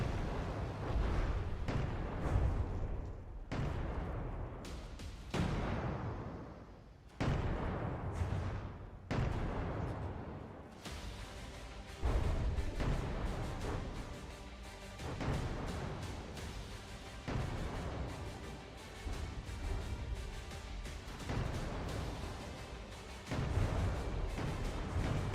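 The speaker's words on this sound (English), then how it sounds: "the cannons are all coming online" Repeated heavy booms from cannons firing in a From the Depths naval battle between a barge and another vessel, loud bursts in rapid clusters over a continuous rumbling din, with no talk.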